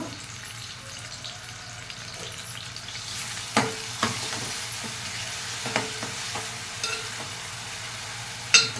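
Coarsely ground onion paste frying in hot oil for a mutton curry, a soft continuous sizzle with occasional louder stirring scrapes and clinks, no talking.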